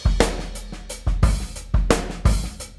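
Superior Drummer 3 Amber kit with a roomy ambience playing a steady rock groove, punchy kick and snare hits with washing cymbals in a regular beat, loud and close with no voices.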